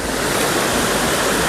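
Kavaldhara waterfall in Maikal, dropping roughly 30 feet: a constant, loud, broadband roar of falling water, steady and unbroken with no voices.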